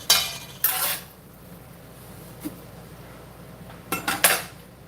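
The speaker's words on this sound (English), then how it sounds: "Gonna whisk away there." Pancake sauce made with cinnamon roll flavoring is whisked in a bowl, with short bursts of metallic clinking and scraping at the start and end around a quieter middle, close by and without talk.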